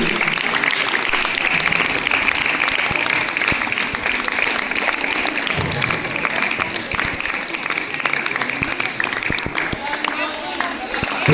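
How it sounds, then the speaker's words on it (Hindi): Audience at a girls' day event at a girls' higher secondary school claps continuously, a dense steady wash of applause throughout with crowd noise and voices mixed in. "आपकी लगातार ताली बजती रहनी चाहिए"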